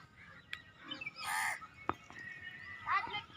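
Crows cawing outdoors around a rooftop, a few harsh scattered calls at moderate distance, mixed with other bird cries and faint background noise.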